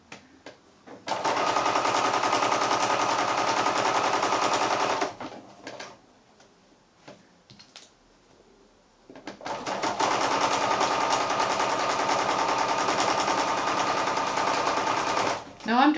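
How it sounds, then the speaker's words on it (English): A sewing machine stitches quilt-as-you-go blocks together in two long steady runs of rapid mechanical whirring, loud and close, separated by a short pause with faint handling noises. "I'll just sew it all the way down, taking those pins out as I go."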